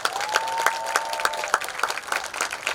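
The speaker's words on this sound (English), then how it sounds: "So please give these students another round of applause." Audience applause for marching band students comes as a brief round of scattered, distinct claps from a modest crowd, loud and close, with a faint tonal whistle-like sound running underneath.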